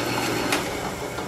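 A drill boring a 3/16-inch pivot hole in a titanium liner for a handmade folding knife, a steady mechanical whir with faint scraping under it, close and continuous for just over a second.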